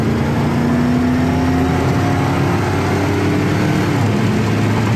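A 1955 Ford Crown Victoria restomod accelerates steadily with a loud, continuous engine drone and rising tone, then a gear shift drops the pitch near the end, heard from inside the car without talk.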